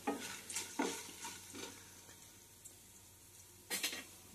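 Grated beetroot and other vegetables frying in a pan, a soft continuous sizzle broken by a few short stirring scrapes, quiet and close with no voices.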